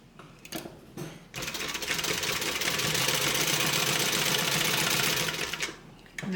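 A sewing machine runs steadily for several seconds, stitching down one side of a welt zippered pocket on a bag, with a brief start and stop at each end.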